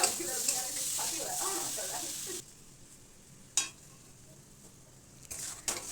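Amla pickle with jaggery stirred in a pan, a steady sizzle with scraping strokes that drops quieter midway, broken by a sharp clink and renewed scraping near the end.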